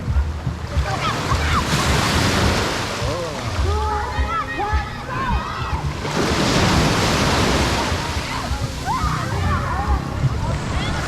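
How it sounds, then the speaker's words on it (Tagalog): Big ocean waves crash and roll on the shore at Gumasa Beach Resort, a loud continuous surf roar with swelling breakers, wind buffeting the microphone and faint voices underneath. "Dito malalaki yung mga alon."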